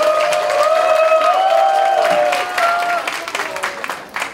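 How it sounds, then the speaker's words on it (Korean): Warm audience applause at the opening ceremony of a performing arts college festival in Seoul, a crowd clapping beneath a held musical tone, thinning out toward the end. "뜨거운 박수 부탁드립니다."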